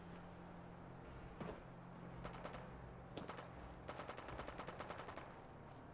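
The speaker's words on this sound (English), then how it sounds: "He's shooting somebody else." Distant gunfire in Fallout: London sounds as scattered single shots and then a quick rattling string of rapid fire, faint and muffled under low background noise.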